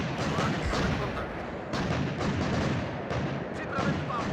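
DANA self-propelled howitzer artillery firing in the WARNO strategy game: a continuous, loud wash of booming fire and rumbling impacts that never lets up across the whole stretch.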